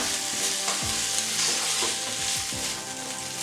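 Sweet peppers and carrots stir-frying in a hot pan, a steady loud sizzle with a few scraping stirs of a utensil, close and alone without talk.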